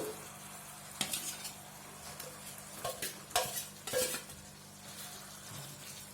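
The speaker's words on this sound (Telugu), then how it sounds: "ఇప్పుడు వేసుకొని ఒకసారి బాగా ఈ చికెన్ ఈ మసాలాకి బాగా పట్టే విధంగా కలుపుకుందామండి" Fried chicken is stirred into a spicy garlic masala in a pan: quiet sizzling under a steady low hum, with a handful of scraping, clattering spoon strokes against the pan, and no talking.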